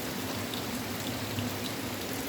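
Rain falling steadily on a front garden on a wet late-October day, a dense, continuous patter of drops close by with no voices over it.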